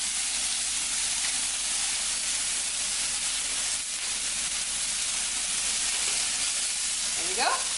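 Potatoes fry in a pan with a steady, dense sizzle and hiss that carries on evenly throughout, close and fairly loud, with a brief clink near the end.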